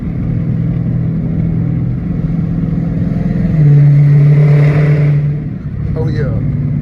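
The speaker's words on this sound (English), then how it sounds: "I know y'all want to hear that bit." A catless Dodge Challenger R/T accelerates with a loud, droning exhaust note that swells midway and then eases off, heard from inside the car in traffic, with a voice speaking briefly.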